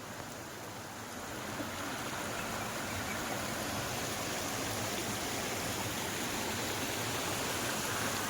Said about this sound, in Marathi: नॅचरल मेडिटेशनला जो साऊंड हवा आहे आपल्याला तो आवाज येतोय पूर्ण पाण्याचा